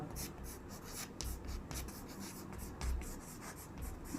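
A hand writes a math formula, the cylinder volume, in a class 10 lesson: soft, close scratching strokes come in quick bursts with brief pauses, fairly faint.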